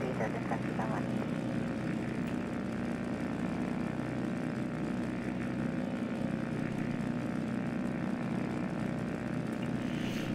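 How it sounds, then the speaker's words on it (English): A SIAI-Marchetti light propeller aircraft runs its engine for takeoff, a steady droning propeller hum heard from close by with radio and cockpit voices talking over it. "wind calm, clear takeoff for Marchetti"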